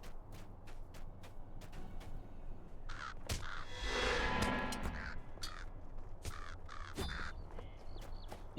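Crows cawing in the Eregion area of the Lord of the Rings Online game, a quick series of sharp repeated caws with a louder rushing swell midway, no talking.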